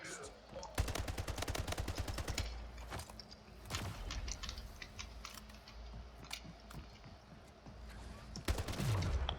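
Shotgun fire in the video game Splitgate, with rapid bursts of sharp game gunshots and clicks, loud and close, including a dense volley at the start and more shots near the end.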